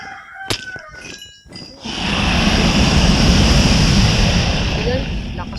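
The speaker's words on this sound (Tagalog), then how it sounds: "Lakas ng tunog ng dragon ah" The Ender Dragon in Minecraft lets out a loud, sustained roaring growl after some brief clicks and sharp game sounds, filling the rest of the moment.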